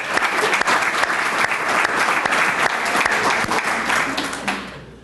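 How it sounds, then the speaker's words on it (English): Audience applause at a sculpture event in gardens, a dense, steady clapping crowd that holds loud for about four seconds and then trails off abruptly. "let's give the Friends, both sets of Friends, a round of applause"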